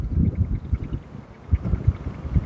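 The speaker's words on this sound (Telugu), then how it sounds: "ఇక్కడ గాలి చూస్తున్నారా ఎంత బాగా వస్తుందో" Gusty wind at Konark, Odisha, buffets the microphone in low, uneven rumbling bursts, loud and close, with brief calmer gaps between gusts.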